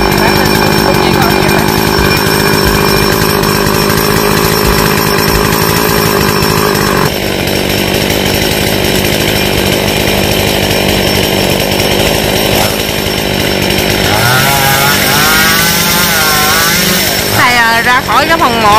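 A chainsaw cuts down a large eucalyptus tree in a cramped spot beside a grave, its engine droning loudly and continuously close by, then revving and whining up and down in pitch toward the end.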